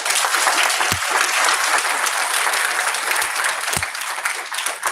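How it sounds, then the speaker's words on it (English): An audience at a school board meeting applauds a back-to-back state champion dance team, a steady roomful of clapping that holds for several seconds, with a few sharp thumps breaking through. "So let's give them a round of applause for that."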